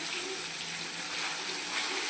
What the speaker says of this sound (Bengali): এবার আমি লেজগুলোকে ভেজে নেব, একদম লাল লাল করে বন্ধুরা ভেজে নেব